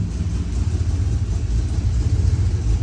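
A turbocharged 6.0 AWD Chevrolet Silverado idles with its exhaust cutout open, giving a steady, deep, loud rumble that stays close and continuous throughout.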